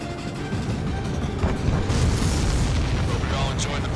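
Explosions in the Ace Combat 7 flight game, a dense, continuous rumble of booms and bursts that swells louder partway through and stays heavy to the end.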